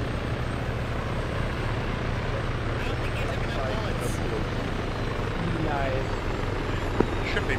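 A helicopter in a ShackTac military game session drones steadily with a low rotor thrum and broadband engine roar, continuous and fairly close, with faint voices over the radio-like mix.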